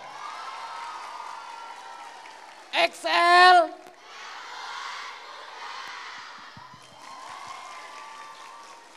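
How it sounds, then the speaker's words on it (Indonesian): Audience applause and cheering for XL at a school event at SMK Negeri 10 Surabaya: a steady crowd wash with a loud shouted whoop near the middle, and voices mixed through. "Aku boleh minta tepuk tangannya dong buat XL."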